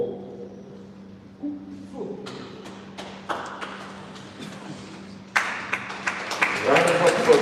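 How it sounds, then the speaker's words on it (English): An audience at a public hearing on unpaid pensions claps, starting as scattered taps and building into louder, fuller applause near the end, with voices underneath. "Round of applause, please."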